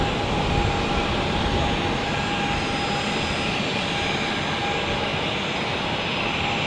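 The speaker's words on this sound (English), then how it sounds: "let's focus on the A320neo here, taxiing by" A Swiss Airbus A320neo jet taxis past at Zurich airport, its engines giving a steady, loud broadband roar with a faint whine, constant throughout with no talk.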